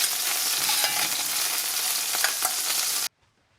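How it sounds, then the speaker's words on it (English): Chunks of beef brown in smoking hot dripping for a stew, a loud, dense, close sizzle with occasional stirring scrapes, cutting off abruptly to silence near the end. "add the beef and stir them now and again to get them sort of browned and crispy all over"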